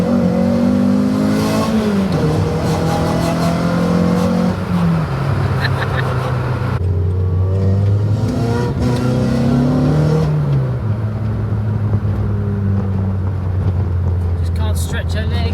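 A Racing Blue Renault Clio 182 track car revs hard on a circuit, its engine note climbing and dropping through gear changes, loud and continuous throughout, with voices talking over it.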